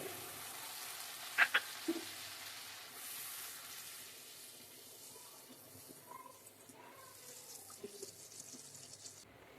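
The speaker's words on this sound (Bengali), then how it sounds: "এবারে 1/2 কাপ জল দিয়ে দিব।" Half a cup of water goes into a pan of fried onion, ginger and garlic for a surma fish bhuna, a short splash followed by a faint bubbling sizzle, quiet and close.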